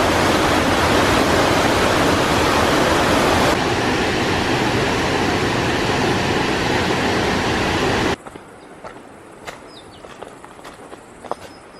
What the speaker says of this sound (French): ils appellent ça la petite cascade